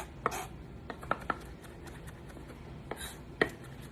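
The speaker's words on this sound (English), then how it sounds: "you really want to mince up this garlic" A knife minces garlic for turkey burgers on a cutting board, giving a few quiet, scattered chopping taps against a low, hushed background.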